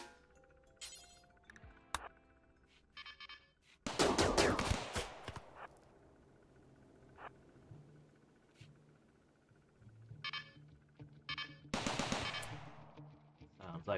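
Automated turrets firing on attackers in the colony game Rimworld, with sparse clicks and two loud rattling bursts of rapid gunfire at a moderate distance and quiet stretches between them.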